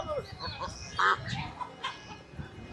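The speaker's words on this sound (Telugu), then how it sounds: "నాటుకోళ్ళు చాలా బాగున్నాయి" Country chickens at a Sunday bazaar in Erragadda, Hyderabad, give a few brief clucks, one sharp call standing out, amid a busy market hubbub of distant voices.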